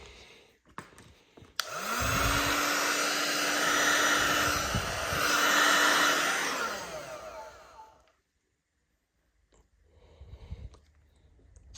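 A heat gun blowing on tint film being applied to a Cupra Ateca tail light: a loud, steady roaring hiss of fan and heater that runs for about six seconds, swells slightly midway, then cuts off abruptly, with handling noises before and after.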